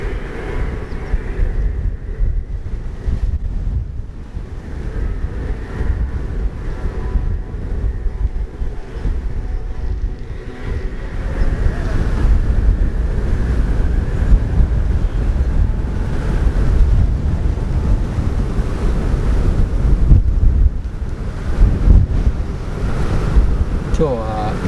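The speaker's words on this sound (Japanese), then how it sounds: "今日は非常に風が強く" Strong wind at Takeshima beach buffets the microphone while waves wash and surge nearby, a loud continuous roar that swells and eases without letup.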